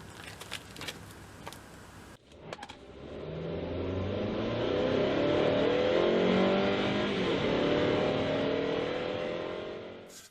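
A car on a road trip accelerates after a few faint knocks and clicks, its engine rising into a steady, loud drone with shifting tones that carries on before easing off at the end.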